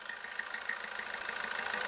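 A 2016 Maruti Suzuki Ertiga VDI diesel idles quietly and evenly, with a faint steady mechanical hum and soft ticking throughout the brief moment.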